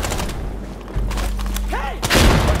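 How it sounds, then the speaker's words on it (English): A frag grenade bursts in the video game Insurgency Sandstorm, a sudden loud boom near the end after a stretch of lower rumbling game noise. "I'm throwing a frag! Go, go! Frag out!"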